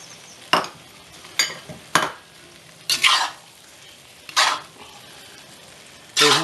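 Beef and broccoli with gravy stirred in a cast iron pan, six or so separate scraping strokes of a utensil against the iron, spaced irregularly over a faint quiet background.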